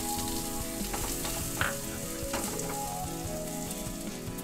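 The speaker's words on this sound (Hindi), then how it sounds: "अब इसमें ऐड करेंगे कटा हुआ 1 प्याज।" Chopped onion frying in hot oil with bay leaf, green cardamom, cloves and a piece of cinnamon for a restaurant-style navratan korma, a steady close sizzle with a few soft stirring clinks and no talk.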